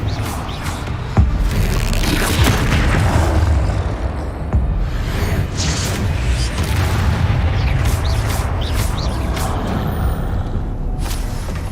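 Repeated booming blasts of the Confringo fire spell in the game Hogwarts Legacy, with several loud, rumbling explosions amid ongoing combat noise.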